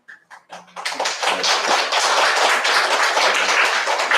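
Applause from a church audience during a testimony, starting with a few scattered claps and swelling within a second into steady, dense clapping from many hands that holds at full strength to the end.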